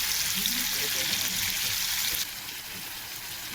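Hilsa fish bubbling and simmering with ground spices in a pan, a steady close sizzle and frying hiss that drops slightly in level partway through, with no voices.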